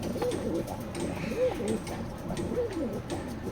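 Pure-line racing pigeons in a loft coo in a slow repeating rhythm, roughly three rolling calls spaced about a second apart, close and clear over a constant background hum.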